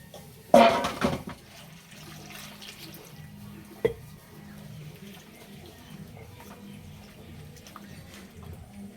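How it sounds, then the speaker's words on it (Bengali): Raw green mangoes being washed in water, with a short burst of splashing and sloshing up close, then a single drip or knock and quieter trickles and handling noises afterward. "এখানে কয়েকটা কাঁচা আম নিয়েছি, আমগুলো পরিষ্কার করে ধুয়ে নেব।"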